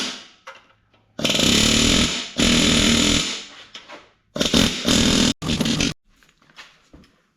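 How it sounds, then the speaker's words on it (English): Air chisel hammering at rusted exhaust manifold bolts on a GMC Jimmy during an LS swap: loud, close bursts of rapid rattling, several seconds long, separated by short pauses. "But I hit them all with the air chisel."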